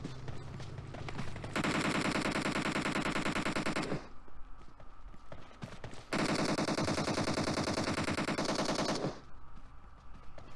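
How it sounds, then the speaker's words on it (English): Automatic gunfire in the PUBG Mobile game, two long loud bursts of rapid shots separated by a quieter stretch of game ambience, heard close and dense. "Oh, man, we're taking fire."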